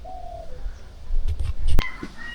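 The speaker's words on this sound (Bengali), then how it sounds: "সুন্দর ঘুঘু পাখি ডাকতেছে।" A dove calls outdoors on a misty village morning, a few soft coos, clear but not close, with a sharp click and faint chirps near the end.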